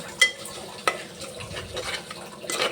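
A spoon stirs tomato bath frying in oil and ghee in a pan, soft sizzling beneath a few sharp scraping clacks against the metal, close and fairly quiet.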